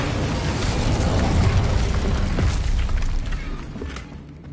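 Incendio fire spell cast in Hogwarts Legacy, a loud whooshing, roaring blast of flame that swells through the middle and slowly fades, with crackling bursts and no talking over it.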